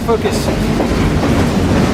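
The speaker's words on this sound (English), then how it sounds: "Well, the train, we're on it." A freight train rolls loudly and close on Burlington Northern rails near Klamath Falls, its steady clickety-clack and rumble filling the air while a voice speaks briefly over it.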